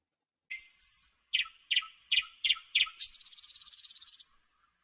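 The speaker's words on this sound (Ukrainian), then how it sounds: "Так, то соловей." A nightingale sings alone nearby: several sharp separate notes, then a rapid rattling trill, clear against silence.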